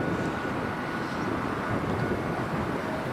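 A Qatar Airways airliner on approach to runway 10L at Dublin Airport, passing over Dunboyne: a steady, broad, distant jet roar that holds at an even level throughout, with no voices.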